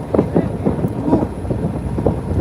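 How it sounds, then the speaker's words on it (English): Wind gusting along the side of a moving ferry near Watsons Bay, Sydney, a steady low rumbling buffet with uneven surges throughout. "wind coming down the side of the ferry is nippy"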